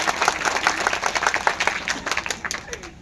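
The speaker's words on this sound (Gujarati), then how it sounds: "એને જોરદાર તાળીઓથી વધાવો." Lively audience clapping at a live comedy performance in a village program, with individual claps distinct within the crowd's applause, gradually thinning out toward the end.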